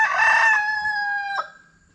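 A rooster gives one loud, close crow, a long drawn-out call that drops in pitch and trails off into a short tail, among chickens on a homestead, with no voices.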